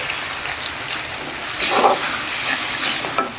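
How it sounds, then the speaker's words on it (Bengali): Water poured into a hot pan of frying spices while cooking koi fish hisses in a steady, close sizzle, swelling to a louder burst midway before settling back to a constant crackle, with no talking. "মশলা যে মাছটা ভাজা ছিল ওই পানিটা আমি দিয়ে দিলাম।"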